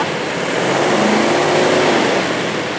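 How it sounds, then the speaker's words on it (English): The V8 engine of a restored 1962 Ford Galaxie 500 XL rumbles steadily close by, its pitch rising slightly as it revs, with no talking. "now if we turned on the engine, what does that sound like? I'd love to hear that V8"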